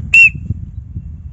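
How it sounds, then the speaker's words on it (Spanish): One short, sharp blast from a hiking safety whistle, high and piercing, sounds once and cuts off quickly over faint low background rumble. "aquí llevo una cosa muy importante, que es el silbato"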